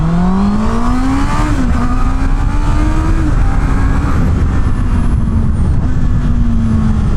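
A Honda CB650R motorcycle accelerates hard on a street. It is loud and close, the engine note climbs sharply through the revs with brief dips at gear changes, then keeps pulling strongly.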